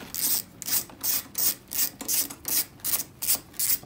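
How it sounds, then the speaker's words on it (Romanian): Ratcheting screwdriver or wrench loosening the front grille screws on a CF Moto 500 ATV, eight quick bright clicking bursts in a steady rhythm, close and clear with no talking. "Și desfacem grilajul față."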